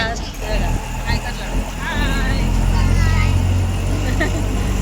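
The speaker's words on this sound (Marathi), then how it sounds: "आता बसलो आहे रिक्षा" Ride in an auto rickshaw with a steady low engine drone and road rumble throughout, people chatting and laughing over it.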